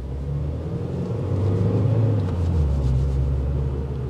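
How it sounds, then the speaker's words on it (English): A 2022 Subaru WRX engine and exhaust rev up in one steady, loud, low rumbling surge that swells and holds, then eases slightly toward the end, with no talk over it. "it makes me want to push the throttle just like this."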